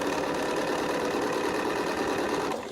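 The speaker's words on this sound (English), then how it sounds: "Just sew my 2 black together first, which is my first row." A sewing machine runs steadily for a few seconds, stitching two black quilt pieces together, its motor a continuous close whirring hum that eases off at the very end.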